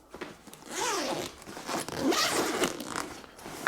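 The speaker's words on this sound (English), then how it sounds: "Let me zipper this up." A zipper being drawn closed on a fabric tool roll, a pair of fast ratcheting pulls with a brief pause between them, close and crisp against a quiet room.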